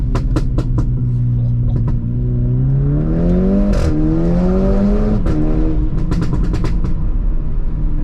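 A supercharged 250 bhp VW Polo GTI accelerates hard along a B road with the windows down, its loud engine note rising steadily through the revs, briefly dropping at a gear change, then climbing again amid wind and road noise.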